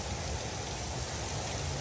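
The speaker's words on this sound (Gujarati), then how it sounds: "કડાકા ભડાકા સાથે વરસાદ વરસી રહ્યો છે" Heavy rain pours in Patan during a thunderstorm, a dense unbroken hiss of water close by for under two seconds, with no voices.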